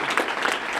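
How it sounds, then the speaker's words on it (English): Brief burst of audience clapping for the mayor of the District of Columbia at an office opening event, a dense wash of applause lasting under a second. "Give her a big round of applause."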